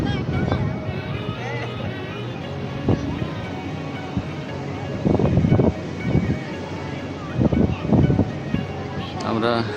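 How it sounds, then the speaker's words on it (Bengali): Big ocean waves crash and wind buffets the microphone on the beach at Cox's Bazar, a steady roaring wash with several louder surges breaking through. "খুব বড় বড় ঢেউ এবং বাতাস"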